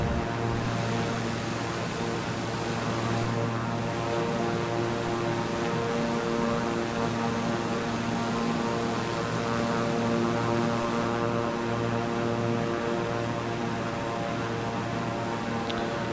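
Aircraft engine in Microsoft Flight Simulator 2024 on PS5: a steady, loud propeller drone with a constant harmonic hum, unbroken for the whole stretch, with no talking.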